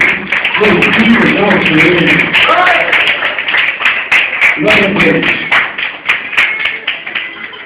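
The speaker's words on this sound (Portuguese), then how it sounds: "Aplauda Ele, por favor" A church congregation claps along in rapid, continuous applause while a voice speaks loudly over it, the clapping thinning out toward the end.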